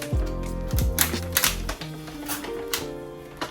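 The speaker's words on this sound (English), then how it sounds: "Now I'm going to peel off the back." Adhesive contact paper has its backing peeled away during a rental-friendly kitchen countertop makeover, giving close crackling and ripping bursts with short pauses between pulls.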